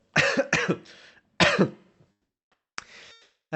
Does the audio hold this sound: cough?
yes